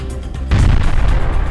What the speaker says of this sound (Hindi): रूसी ड्रोन हमले में यूक्रेनी रेडियो स्टेशन में जोरदार धमाका हुआ।